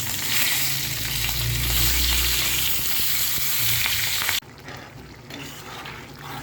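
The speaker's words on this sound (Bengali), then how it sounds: "এখন কাতল মাছটা ভেজে তারপর রান্না করব।" Catla fish frying in hot oil, a loud steady sizzle with a low bubbling rumble that drops abruptly to a quieter, thinner crackle near the end.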